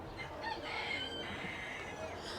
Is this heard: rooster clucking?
yes